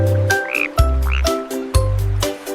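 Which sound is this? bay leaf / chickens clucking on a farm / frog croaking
frog croaking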